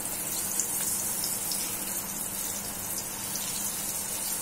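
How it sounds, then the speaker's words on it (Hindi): Kothimbir vadi, Maharashtrian coriander fritters, deep frying in medium-hot oil give off a loud, steady, continuous sizzle and bubbling hiss with no pauses and no voices. "मैं इन्हें डीप फ्राई कर रही हूँ। तेल हमारा मीडियम गर्म हो गया है। अभी हम इसके अंदर एक एक करके डालेंगे।"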